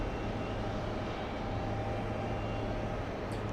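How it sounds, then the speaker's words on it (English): Airplane taking off on runway 4 left, a steady, loud broadband jet roar with a low rumble, continuous and unchanging throughout, with no voices. "All right, that will be a takeoff on runway 4 left."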